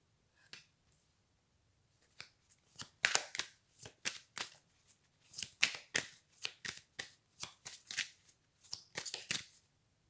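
Playing cards are shuffled and drawn for a card reading, giving crisp, close riffles and sharp snapping flicks in irregular quick bursts, with no talking.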